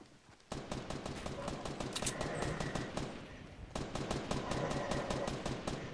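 Rapid automatic gunfire from a shooting video game, dense bursts of shots firing almost continuously with a brief pause midway, loud and close.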